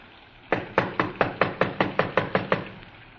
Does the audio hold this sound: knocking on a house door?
yes